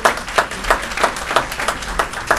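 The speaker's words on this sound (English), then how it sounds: "Let's give them a round of applause." Audience applause at a city council meeting, with close, rhythmic clapping in regular bursts, fairly loud and steady through the short stretch, with no talk over it.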